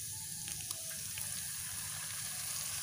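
Ground paste of chili, shallot and garlic frying in a pan, giving a steady, even sizzle with faint stirring clicks and no voices.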